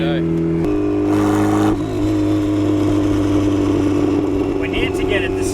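A loud turbocharged Mazda Miata engine drones and revs with a rough exhaust gurgle, heard close from inside the car, with tones shifting as it accelerates.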